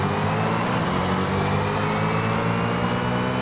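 In Forza Horizon 5, a car engine drones loudly and continuously at a steady, high-revving pitch, dense and close with no voices over it.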